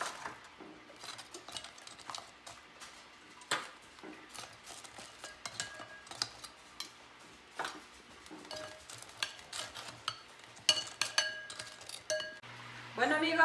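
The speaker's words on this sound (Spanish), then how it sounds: "el pollo ya está doradito, lo vamos a agregar en la salsa para que se mixee con la salsa" Browned chicken wings being stirred into buffalo sauce in a home kitchen, with scattered clinks and taps of utensils against a dish and soft wet stirring, close and irregular, ending in a brief louder scrape.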